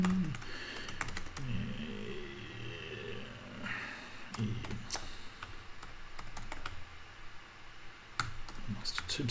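Rapid typing on a computer keyboard while setting up a Linux console for a bot build, with irregular bursts of clicky keystrokes up close and occasional talk between them.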